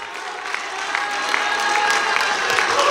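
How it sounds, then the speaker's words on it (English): A church congregation clapping hands during worship, a dense rhythmic patter of many hands that builds in loudness, with crowd voices mixed in. "Clap your hands to the Lord."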